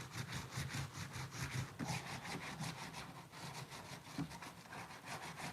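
Watercolor paint ground into the cracks of batik wax on fabric gives a steady, fairly loud scraping and rubbing that repeats in close strokes, with no voices.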